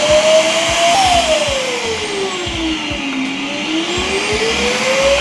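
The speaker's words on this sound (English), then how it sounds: "Thanks for interrupting me, auto vacuum bot." A robot vacuum cleaner runs nearby with a loud steady whir, its motor pitch sliding down and then back up while soft bumps and clicks tap along underneath.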